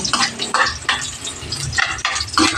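Garlic dropped into a hot frying pan, giving a close, steady sizzle with scraping stirs and light clinks of a utensil against the pan, loud and with no talking.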